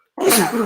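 A single sharp sneeze bursts out close to the listener after a brief silence, its explosive onset trailing into a breathy, voiced tail.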